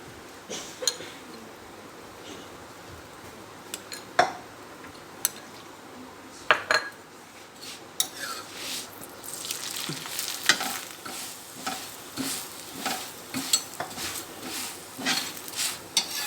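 A paratha cooks on a griddle with a soft steady sizzle, punctuated by sharp clinks and scrapes of a utensil against the pan, growing busier toward the end.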